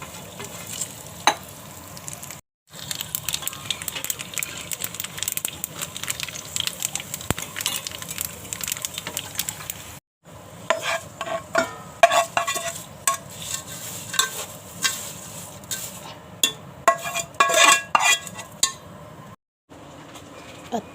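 Thin poha chivda frying and being stirred in a pan with very little oil, continuous crackling sizzle with frequent sharp scrapes and clinks against the pan, cut by a few short silent gaps.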